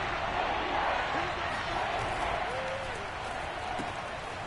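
Football stadium crowd roaring steadily ahead of a big third down, a dense continuous wash of cheering and noise that stays loud and fairly even throughout.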